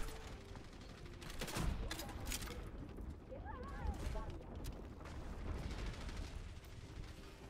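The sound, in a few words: enemy turret firing in Overwatch video game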